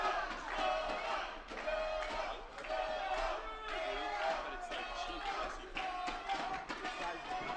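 Loud, continuous roar of a wrestling crowd inside an arena during a live pro wrestling match, with cheers and shouts swelling in waves and a brief dip around the middle.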